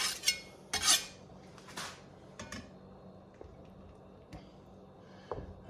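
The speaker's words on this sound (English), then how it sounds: "can cut up the cream cheese in the pan" Cream cheese is cut up in a pan with a metal utensil, producing scattered light clinks and scrapes against the pan, louder at first and then sparser and quieter, with no talking over them.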